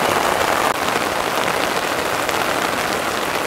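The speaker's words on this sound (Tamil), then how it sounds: "துளி துளி துளி மழையாக வந்து கொண்டிருக்கிறது." Heavy rain falling a few hours before Cyclone Nivar: a loud, dense, unbroken hiss of rain hitting surfaces close by, steady throughout, with no voices.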